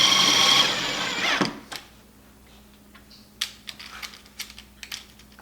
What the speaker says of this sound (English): Just gonna drill a little here at first.